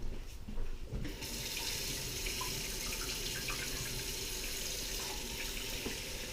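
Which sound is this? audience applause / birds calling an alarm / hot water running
hot water running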